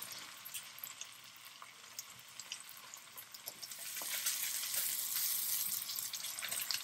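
Onion frying in a pan for Bolognese, a soft, crackly sizzle that swells louder and denser partway through, with no talking.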